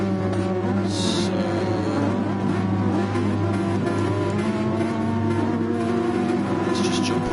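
Several race car engines drone and rev together at the start of a Super Formula race in a racing video game. A sustained, loud, layered engine tone holds steady throughout.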